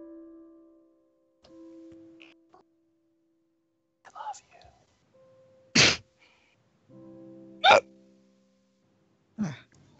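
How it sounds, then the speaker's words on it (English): Several short, sharp hiccups, loud and close, popping out at irregular intervals between quiet stretches and bits of low, muffled voice. "That was a fucking hiccup."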